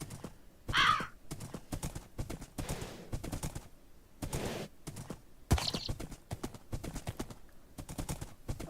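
Steady clip-clop of horse hooves at a brisk trot in a video game, continuous and rhythmic, with a few sharp bursts and a brief high whinny-like sound.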